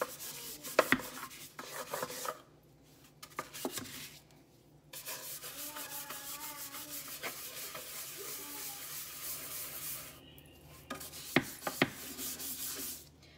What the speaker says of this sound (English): Break up that paste. And really start scrubbing.